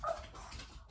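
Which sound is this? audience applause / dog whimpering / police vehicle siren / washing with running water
dog whimpering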